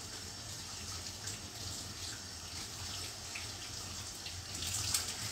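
A kitchen tap runs while hands are washed, a faint, steady stream of water with light splashing near the end.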